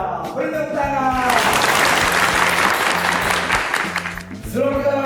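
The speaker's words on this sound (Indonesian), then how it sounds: "Beri tepuk tangan." Audience applause at an Indonesian military (TNI) anniversary gathering before a morning fun walk, a dense sustained clapping that swells and holds for several seconds, with a voice talking faintly at the start and end.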